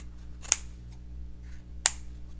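Scissors cut out small fabric wing pieces for a stitched bird ornament, two crisp separate snips in a quiet room with a faint background hum.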